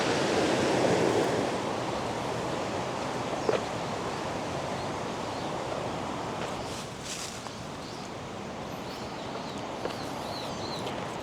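The Mukogawa River rushes through a gorge as a steady, broadband roar of flowing water that stays constant throughout, with faint bird calls now and then.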